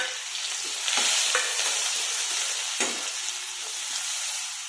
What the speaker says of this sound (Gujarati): હિંગ નાખી દે એના પછી નાખીશું આપણે ડુંગળી, ચોપ કરેલી ડુંગળી નાખીશું આપણે